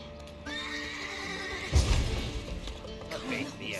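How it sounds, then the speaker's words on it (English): Horses neigh and whinny inside a stable in The Witcher 3, with loud clip-clop stamping and a clear close whinny at the middle, plus a short voice over a low game ambience. "Gotta calm all the horses before they wake the guards."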